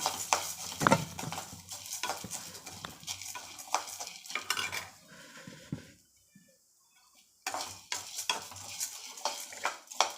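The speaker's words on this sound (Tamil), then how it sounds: "அதே உலக்கட்டு நூறு கிராம் பருப்பு அதையும் ஒன்றா போட்டு வறுத்துறோம்" A spoon scrapes and stirs lentils dry roasting in a pan for sambar powder, making a soft, steady rattle and clink of metal with a brief quiet pause partway through.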